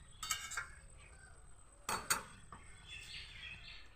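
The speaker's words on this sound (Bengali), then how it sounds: "এখন একটু ঢেকে দিচ্ছি।" A metal lid clinks onto a cooking pot of bottle gourd shukto simmering over a low gas flame, with a few sharp, close clatters spaced apart amid a quiet kitchen background.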